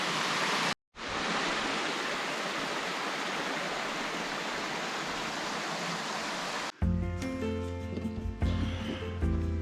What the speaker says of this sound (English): This is where a creek begins.